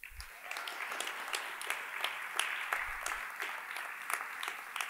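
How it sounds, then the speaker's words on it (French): An audience in a hall at Versailles applauds a speaker at a staged trial, a sustained round of many hands clapping, moderately distant and even, with no talk. "Je vous demande d'applaudir Monsieur Gaë Sigro."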